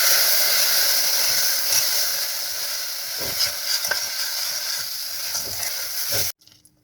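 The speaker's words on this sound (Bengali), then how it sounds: "দিয়ে এখন ভালো মতো এটা নেড়ে চেড়ে রান্না করব" Almond halwa sizzling and hissing in a hot pan as it is stirred, a steady close frying sizzle with soft scraping touches that cuts off abruptly near the end.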